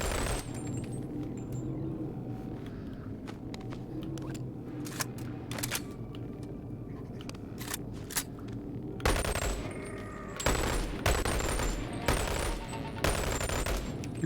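Rifle fire from the VR shooter Boneworks comes in repeated sharp bursts, sparse at first and then denser and louder toward the end, over a low steady game background.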